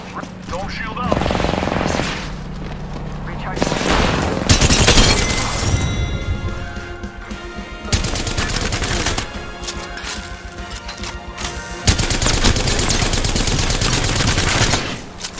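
Apex Legends gunfire from a Havoc rifle and an Eva-8 shotgun, with loud rapid automatic bursts and heavy single blasts in several bouts separated by brief lulls, alongside game sounds and a voice talking.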